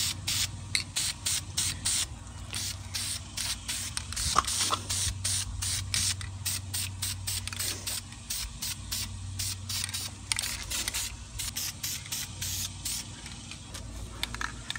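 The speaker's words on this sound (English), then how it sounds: "I'm gonna go ahead and take the red caliper paint and just hit it with some red." Red brake caliper paint sprayed from an aerosol can onto a car's brake caliper, in a long series of short, close hissing bursts with steady rhythm and brief gaps, no talking.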